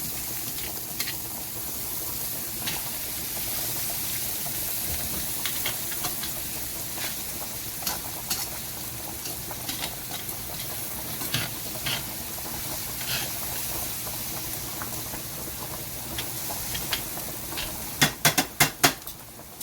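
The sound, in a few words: garlic frying and being stirred in a pan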